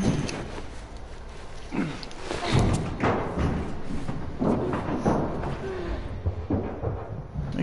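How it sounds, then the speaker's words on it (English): A crate being shoved down in The Last of Us video game lands with a few heavy thuds and thumps over a dull, busy game soundscape. "You think you can shove that crate down?"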